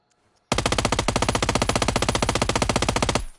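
Automatic gunfire with a GS9 rifle in PUBG, a rapid unbroken burst of about three seconds of evenly spaced loud shots, close and alone after a brief quiet start.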